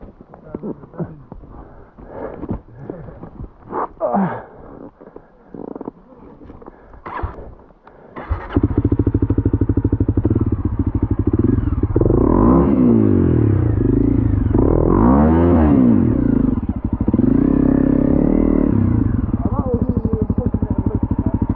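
Honda CRF250L dirt bike ridden off-road through foggy wet woods, its single-cylinder engine droning loud and close with rising and falling revs after several seconds of rustling and voices.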